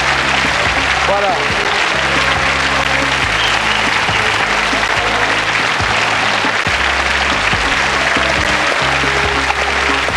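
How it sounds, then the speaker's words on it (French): A studio audience at a televised French quiz show for elite university students applauds loudly and steadily, with a host talking over the clapping and music underneath. "La salle qui vous applaudit tous les deux, Philippe."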